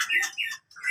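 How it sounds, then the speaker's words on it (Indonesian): An Aceh white-rumped shama (murai batu) gives bright, close, loud chirping calls in two quick phrases separated by a brief silence. "Ini murai batu Aceh, ada sedikit belorotnya"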